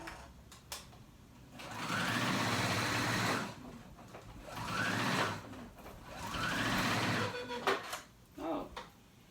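A sewing machine runs in three steady whirring bursts of straight stitching through swimsuit fabric, each a few seconds long, with brief pauses and clicks between them, the machine acting up.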